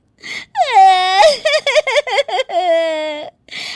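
A woman in a Hindi story wails loudly, her voice rising into long drawn-out cries broken by short sobbing pulses and then one sustained moan, close and alone.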